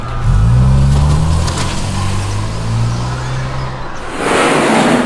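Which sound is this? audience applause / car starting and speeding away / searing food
car starting and speeding away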